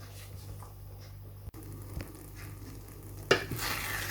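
Beaten egg mixture poured into melted butter in a pan gives a soft, quiet sizzle with faint scattered pops, then a brief louder burst of frying near the end.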